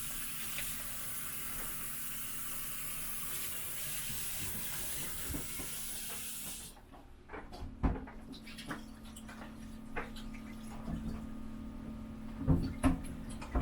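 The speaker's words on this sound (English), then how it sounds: "So let me go ahead and quickly wash this, and then we'll get marinating." Tap water runs steadily into a kitchen sink while oxtail is washed, a constant hiss for several seconds that then stops, followed by scattered splashes, clinks and handling noises nearby.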